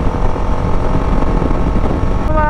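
Steady engine drone and wind rush from a motorcycle being ridden with a passenger on the back, loud and constant throughout, close to the rider with no talk.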